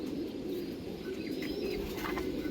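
Young Lal Phul pigeon chicks calling, soft cooing and thin squeaky peeps close by over a steady background hum.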